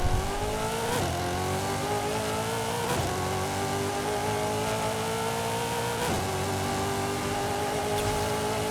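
Supercharged V8 Mazda FC RX-7 accelerating hard through the gears in a Forza Horizon 5 roll race, a loud continuous engine roar climbing in pitch with three distinct upshift breaks, no talk.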